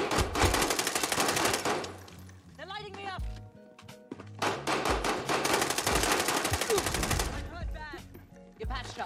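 Rapid automatic gunfire rattles loudly in bursts during an online shooter game, with short pauses between volleys, while a player talks over it.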